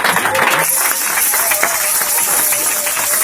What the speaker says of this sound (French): J'entends seulement les bruits des acclamations ici.